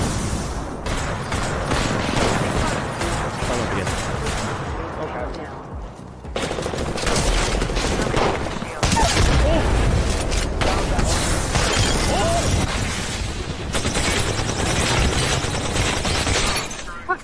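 Dense, loud gunfire and explosive booms from Apex Legends gameplay featuring the Kraber sniper rifle, continuous crashing bursts with a few abrupt cuts, mixed with excited voices.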